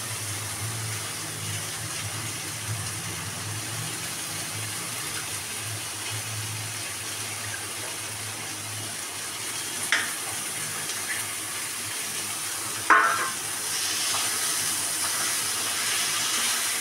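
Boiled chicken goes into a pan of masala whose oil has begun to separate, for chicken bharta: a steady close hiss of sizzling runs throughout, with a short louder burst of spitting near the end.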